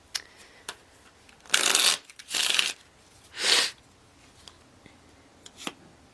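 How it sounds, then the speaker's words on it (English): Tarot cards being shuffled on a table, three distinct riffling bursts separated by short pauses plus a few light taps and clicks, close and quiet in a calm room. "One more shuffle, sorry."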